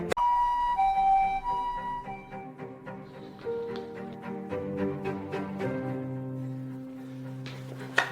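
An ambulance siren wails loudly at close range, its tone sweeping up and down in repeated cycles, with no voices over it.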